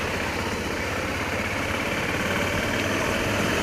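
An old motorbike engine idles steadily, a dense continuous rumble filling the whole span at close range with no breaks or talk.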